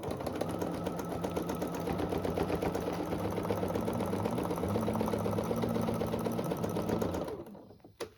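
A sewing machine stitching fabric for a mini quilt runner, a fast steady mechanical whirr and rapid needle chatter running continuously close by, then stopping abruptly near the end.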